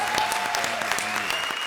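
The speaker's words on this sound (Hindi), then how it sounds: "जोरदार तालियां धर्म जी बॉबी से" A studio audience on a TV comedy show claps loudly and continuously to welcome actor Dharmendra, a brief dense burst of applause.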